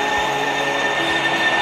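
An LRT train passes overhead in Bus Simulator Indonesia as a loud, steady rail rumble with a high, constant whine and faint low thumps, with no other sound.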